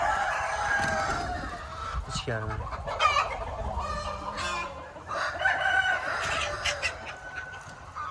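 Hens cluck and a rooster crows inside a small farm's chicken coop. The calls are loud and nearby, with a person speaking briefly over them.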